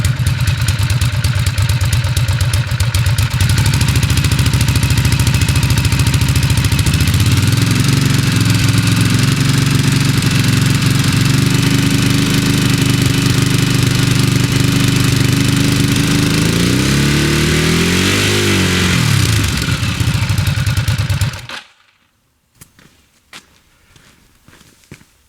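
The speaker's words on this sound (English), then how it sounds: "Let me rev it a bit." A Cagiva Elefant motorcycle engine with an open exhaust and the DB killer removed idles loudly and deeply, revs up twice in rising and falling sweeps, then shuts off suddenly, leaving near silence with a few faint clicks.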